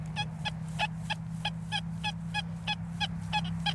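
An XP Deus II metal detector fitted with a big coil gives rapid, evenly spaced squelchy target beeps, roughly three per second, over a steady low hum, with no speech.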